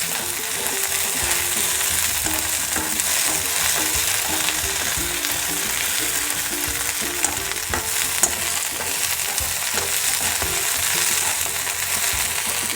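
Chopped okra frying in oil in a pan for sambar, a loud, steady sizzle with a spoon stirring and scraping now and then, close up and continuous, with no voices.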